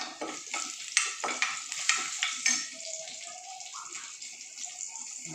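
Garlic frying in hot oil for a home-cooked lunch tempering, with crackling sizzle and several stirring scrapes in the first half, then a softer steady sizzle; no talking.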